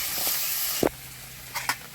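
Pork meat frying with onions in a pan gives a steady, quiet hiss, with a few short, brighter bursts of sizzle rising above it.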